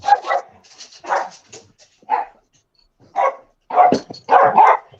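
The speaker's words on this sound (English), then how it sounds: "Dogs are fighting." Dogs fighting indoors, with several close, loud bursts of barking and snarling in an irregular rhythm over about five seconds and short quiet gaps between outbursts.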